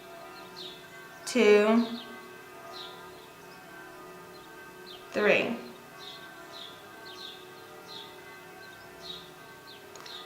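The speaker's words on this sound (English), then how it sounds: "I am sorry for the church bells" Church bells ring in the early morning, two distant, resonant strikes several seconds apart that fade slowly, while a person speaks nearby and birds chirp faintly in between.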